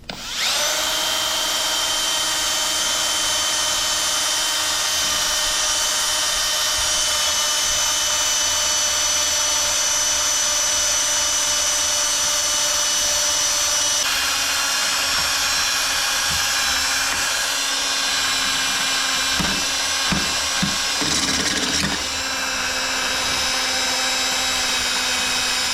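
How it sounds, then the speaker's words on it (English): A small wire wheel on a power tool cleaning baked-on stains off an aluminum part, a loud steady high whirring grind that runs continuously, with brief bumps and shifts in pitch as it presses on the metal. "I think a small wire wheel might get that stuff off."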